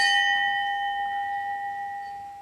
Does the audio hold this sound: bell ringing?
yes